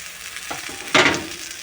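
Rice tipped into a pan of fried vermicelli, a couple of soft taps followed by a sudden loud burst of sizzling that settles into a steady frying hiss.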